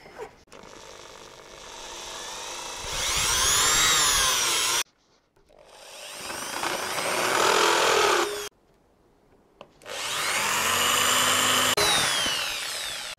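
Power drill boring 10 mm holes through a metal mounting plate for an LED light bar on a Toyota FJ Cruiser, three sustained whining runs rising in pitch, each stopping abruptly, close and loud.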